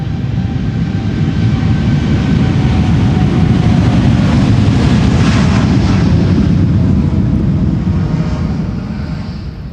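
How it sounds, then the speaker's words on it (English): A KLM Boeing 787 Dreamliner takes off from Schiphol's Polderbaan runway 36L, a loud, sustained engine roar that stays powerful throughout and fades slightly at the end, with no talking. "This is KLM flight 667 going to Austin in Texas."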